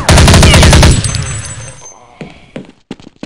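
Rapid automatic gunfire from Counter-Strike 1.6 rattles loud and dense for about a second, then breaks into scattered single shots and thumps as it fades.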